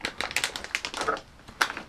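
Small electronic parts for an ESP32 camera board tumble out of a bag, giving a quick run of light, dry clicks and rattles that scatter irregularly and then taper off.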